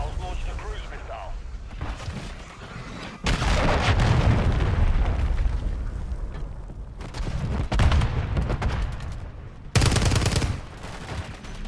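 Cruise missile strike in Call of Duty MWIII, loud booming explosions and rolling gunfire in sustained bursts with several sharp blasts, close and dense over battlefield noise.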